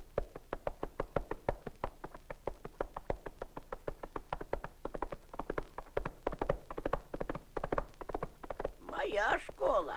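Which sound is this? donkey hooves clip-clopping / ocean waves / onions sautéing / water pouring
donkey hooves clip-clopping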